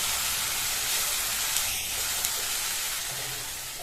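Steady loud hissing sizzle of bitter gourd sautéing in oil on a high flame, continuous and close, with no voices.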